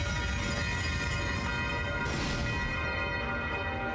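Nocturne bell attack from the video game Trails of Cold Steel, a loud sustained bell-like chime with rich ringing overtones that swells and then fades over a steady backdrop, with no talking.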